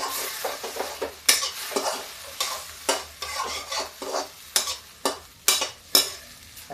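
Potatoes stuck to a frying pan are scraped and stirred loose while cooking for vegetable pulao, a steady rhythm of close metal scrapes over a soft sizzle.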